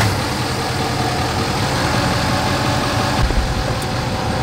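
A Nissan Titan XD pickup's Cummins diesel engine with a 4-inch exhaust idles steadily, a constant low rumbling drone at close range with no revving or talking.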